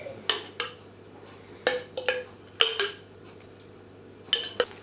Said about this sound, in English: And stir it really well and get every single bit of vegetation coated.